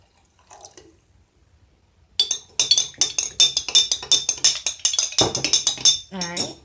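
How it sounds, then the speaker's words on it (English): Water poured into a crystal growing solution from a You'niverse jewelry kit and stirred, giving a dense run of close, bright clinks and splashy dripping taps against a container after a quiet start. "Let's go ahead and pour it in here. And it says to stir and dissolve."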